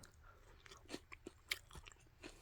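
Crisp, close crunching from chewing a spoonful of Lucky Charms frosted toasted oat cereal with marshmallows in milk, several quiet irregular bites with no talking.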